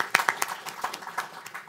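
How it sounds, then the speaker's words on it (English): Brief, sparse audience applause at a talk on Indian foreign policy, scattered individual claps rather than a full ovation, over in under two seconds. "And please join me in just giving Steve a round of applause"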